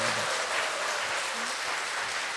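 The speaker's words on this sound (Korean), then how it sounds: "박수 한번 쳐주십시오" A church congregation at a worship service for new members applauds, dense, even clapping from many hands sustained throughout at moderate loudness, with no talking over it.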